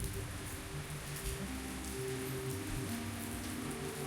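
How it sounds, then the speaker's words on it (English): Steady rain falls in Albania, a continuous broadband patter of drops on surfaces that stays even and fairly close throughout, with no speech over it. "And right now it's just like it's raining."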